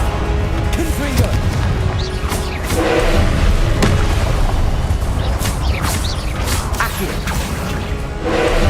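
Confringo blasting spell from Hogwarts Legacy, booming fiery explosions and crashing impacts layered over dense game music and effects, loud and continuous with a voice shouting spell names.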